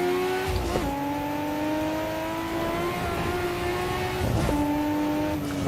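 A BMW in Assetto Corsa on the Nordschleife holds a loud, steady engine drone with clear gear shifts and revving, as tires hum and faintly squeal over close, continuous racing noise.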